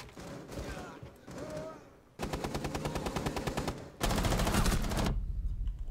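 Rapid automatic gunfire from the Rainbow Six Siege video game, loud close bursts of machine-gun shots in quick rhythmic streams, with faint talk and game noise between volleys.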